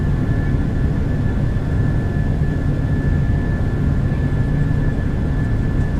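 Steady, loud roar of PMDG 737-800 airliner jet engines at takeoff power in Microsoft Flight Simulator with an FTSIM soundpack, a continuous broadband rumble with a thin high whine running unbroken throughout.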